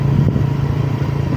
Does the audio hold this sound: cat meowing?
no